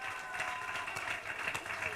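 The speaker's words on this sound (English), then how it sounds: "Please give her a big round of applause." Applause fills a primary school excellence award ceremony, a faint, steady wash of many hands clapping at some distance, unbroken for the short stretch.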